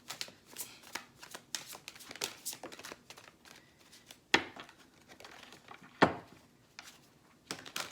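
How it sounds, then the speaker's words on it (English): Druid Craft tarot cards are shuffled by hand close up, giving repeated quick riffling bursts in an uneven rhythm, with two sharper snaps standing out. "I'm going to pull a couple of Druid Craft tarot cards here"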